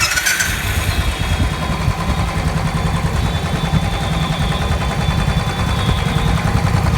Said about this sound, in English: Let's hear the sound of the 500 Thunderbird Royal Enfield.